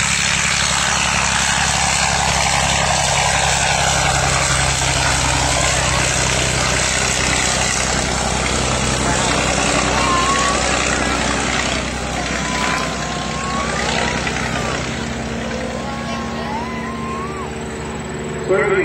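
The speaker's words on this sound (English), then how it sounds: "Listen to the sound of the 1918 Mercedes engine on the Fokker DVII." A 1918 Mercedes aircraft engine on a Fokker D.VII biplane runs at an airshow, a steady loud rumbling drone throughout, with a voice talking over it.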